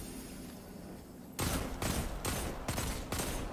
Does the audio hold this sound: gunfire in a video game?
yes